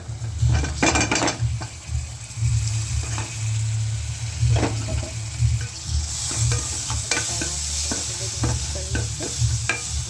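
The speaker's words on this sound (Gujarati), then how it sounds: "હવે આપણે ટમેટા નાખી દઈશું।" Sizzling as tomatoes are added to a hot pan, with stirring and occasional clinks of a utensil against metal, close and steady throughout.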